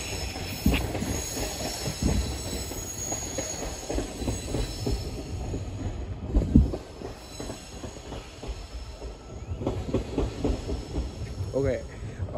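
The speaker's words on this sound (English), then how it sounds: "I got a marked train." A train passes on the rails at a railfanning spot in Greenbelt, rumbling steadily with wheel squeal and clickety-clack, fairly close and loud for the whole stretch.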